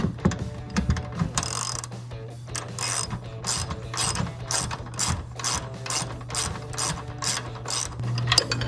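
A ratchet with a 21mm socket tightens a control arm bolt on a Silverado 1500 with forged upper control arms, rapid steady clicking running continuously and close.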